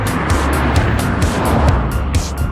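A 1987 Porsche 944 Turbo pulls hard in a drag race, its loud engine roar steady and close across the whole stretch, with the turbo boost coming on high in the revs.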